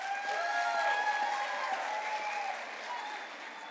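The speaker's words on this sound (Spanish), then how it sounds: "Un fuerte aplauso para Maidense Studio" Audience applauding a dance group at a public event, a sustained, dense wash of clapping from a large crowd that swells early and then eases slightly, heard from amid the audience.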